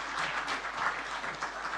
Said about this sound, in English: A round of applause as he comes to stage.